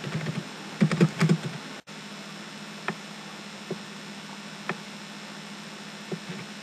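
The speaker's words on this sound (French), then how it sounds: "J'ai fini d'écrire le test de mon article." Keys of a computer keyboard being typed on as article text is entered, a burst of quick clicks early on followed by sparse, isolated taps over a steady low hum.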